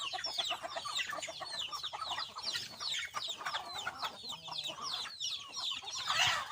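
Basilan breed chickens cluck busily and continuously, a dense flock of overlapping calls close by, with a brief rooster-like cry near the end.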